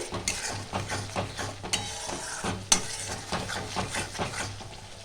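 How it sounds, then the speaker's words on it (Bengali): Spice paste with mustard paste sautéing in a pan for a Bengali katla fish curry, steady sizzling under rhythmic scraping stirs and occasional metallic clinks of a spoon against the pan, close up with no talking. "আর একটু কষিয়ে নিতে হবে।"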